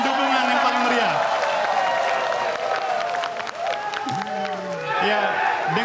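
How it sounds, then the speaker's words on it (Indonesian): Dense, sustained audience applause at the fifth 2019 Indonesian presidential election debate, continuous crowd clapping heard throughout, with a host's voice speaking over it at moments. "Boleh tepuk tangan,"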